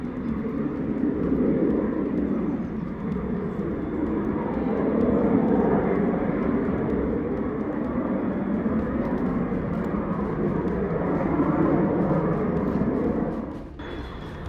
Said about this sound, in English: Zephyr trainer jet nearly made a belly landing at High-Res Airport in France.